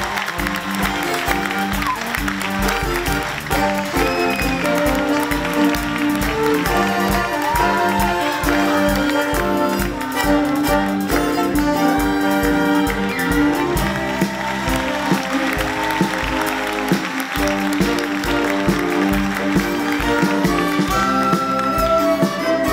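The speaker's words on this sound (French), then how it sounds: "mais la deuxième, applaudissons Florence Patry." Sustained audience applause at a school excellence awards evening as a winner is called, a continuous dense clapping that runs steadily throughout under a bed of other sound.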